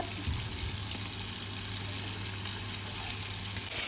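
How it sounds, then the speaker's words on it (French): Comorian samosas fry in a pan of hot oil, giving a steady, even sizzle like rushing water that carries on without a break. "donc là, je mets mes samoussa à frire"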